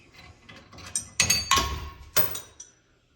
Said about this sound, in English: Take off your bolt.